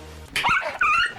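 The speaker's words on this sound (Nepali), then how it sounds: "कसको कुकुर रहेछ?" A dog barks and yelps in a few sharp, close bursts over about a second, loud and strained, with no talking.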